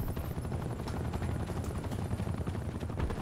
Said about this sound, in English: Is that another chopper?